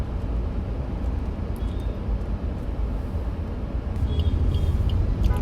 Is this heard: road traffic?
yes